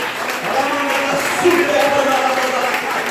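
A church congregation applauding during a youth worship service: steady, sustained clapping from a crowd, moderately loud and even throughout, mixed with voices.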